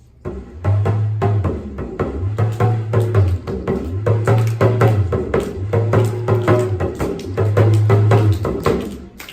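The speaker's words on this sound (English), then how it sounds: "This is called a talking drum." Talking drum struck in quick rhythmic patterns with pitch bending like a voice, played close alongside a repeating low thumping figure.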